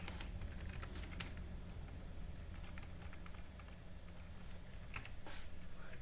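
Quiet computer keyboard typing sounds as scattered, light key clicks over a steady background hiss, with short runs of taps across the span and no speech.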